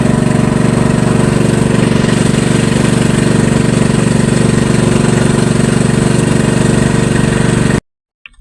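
A boat motor runs on Laguna de Bay with a loud, steady droning hum close up, then cuts off abruptly near the end, leaving near silence.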